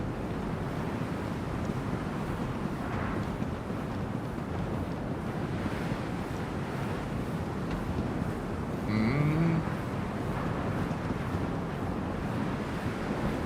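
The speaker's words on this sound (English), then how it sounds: "It's super windy." Strong wind buffets steadily alongside rolling ocean surf in a video game, a continuous loud wash of noise with a brief tonal blip partway through.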